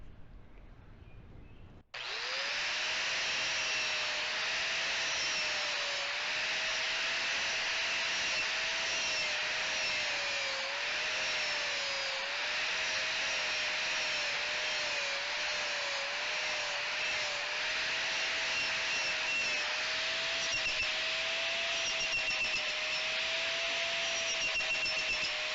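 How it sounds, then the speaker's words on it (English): A power tool fitted with a knotted wire brush scrubs a metal edge ahead of MIG welding, starting abruptly and running steadily and loudly as one continuous harsh whirring grind with a sustained tonal whine, with no talk. "I'm going to clean this edge with the knotted brush"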